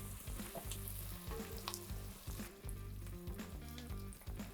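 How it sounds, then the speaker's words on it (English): Garlic sizzling in a hot pan while being stirred, a loud, dense, continuous crackle of frying with no talk over it. "I'm gonna put the garlic in and just move it around the pan for 30 seconds"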